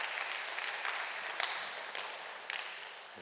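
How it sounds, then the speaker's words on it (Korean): A church congregation applauding in welcome, a soft, fairly distant wash of many clapping hands with a few sharper individual claps standing out, steady and quiet for a few seconds. "여러분께 박수로 환영하시지요"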